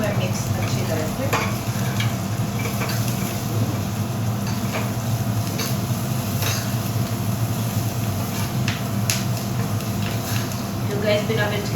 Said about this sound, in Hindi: अब इन्हें कर लेती हूँ मैं मिक्स अच्छी तरह से।